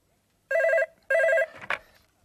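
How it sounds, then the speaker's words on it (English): A telephone rings in a studio setting, two clear electronic double-ring bursts close by, followed by a short clunk as the receiver is picked up. "I'll just answer the phone."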